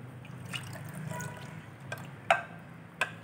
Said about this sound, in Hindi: और एक कप जाएगा इसमें पानी का।